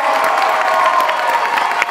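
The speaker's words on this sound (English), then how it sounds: "can we give one more big round of applause to our awesome pony people?" A packed convention-hall audience at a My Little Pony: Friendship is Magic panel cheers and whoops in a steady, loud roar of crowd noise, with clapping mixed in throughout.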